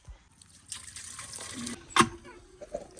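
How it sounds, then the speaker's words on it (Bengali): Water gushes and splashes in short bursts as it is pumped up through a faulty household tap, with trickling in between. "এই যে উঠে গেছে জল"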